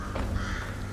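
A single crow caw rings out in the video game Bramble The Mountain King, one harsh, fairly loud call over a low background hum.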